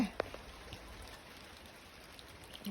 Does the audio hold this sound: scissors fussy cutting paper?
no